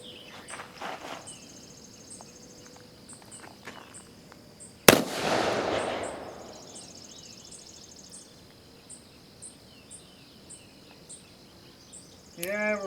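A single sharp, loud gunshot from a Uberti Colt 1861 Navy cap-and-ball revolver cracks outdoors and rings off, with insects chirping faintly before and after.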